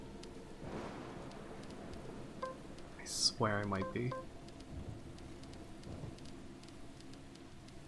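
Steady soft rain in the video game Deadly Premonition hisses in the background throughout, faint and even, with a quiet muttering voice briefly rising over it partway through.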